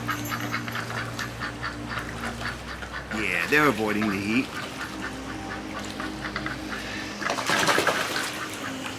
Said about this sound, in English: Here we have some ducks in the pond, staying nice and cool.